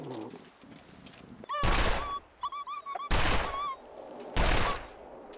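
In The Long Dark video game, gunfire rings out in three loud, echoing blasts spaced a second or so apart, mixed with animal cries and yelps between shots.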